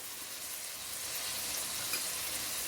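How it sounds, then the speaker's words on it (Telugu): Onions frying in oil in a kadai for pav bhaji, a steady soft sizzle and crackle with a faint stir near the end, no voices. "ఇప్పుడు ఆనియన్స్ ఫస్ట్ వేసుకోవాలి, అవి కొంచెం ఫ్రై లాగా కావాలి."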